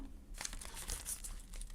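Paper surprise packet, a small bag holding earphones, crinkled and torn open by hand at close range, with dense crackling bursts that continue steadily without speech.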